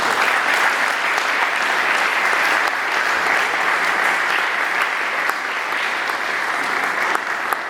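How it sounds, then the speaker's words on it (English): Steady, dense applause from a Rotary meeting audience fills the room without pause, loud and close, with no voices on top. "So let's give a round of applause for Randy Smith."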